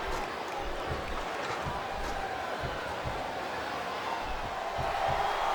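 Wrestling arena crowd roaring during an intergender TLC match, a continuous dense rumble of cheers and shouts heard from a distance at a steady level, with no commentary over it.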